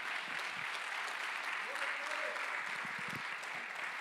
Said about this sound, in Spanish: Dale un fuerte aplauso a Dios en su casa.